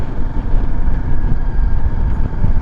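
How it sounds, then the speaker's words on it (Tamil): A Royal Enfield Himalayan 450 motorcycle engine slowing down on the road gives a steady, loud low rumble mixed with broadband road and wind noise throughout, with no talking. "அப்படியே இன்ஜின் வந்து ஸ்பீட் குறையுது."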